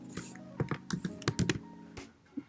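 HTML code is typed on a computer keyboard, a close, quick burst of uneven keystrokes clustered in short runs before a final lone tap.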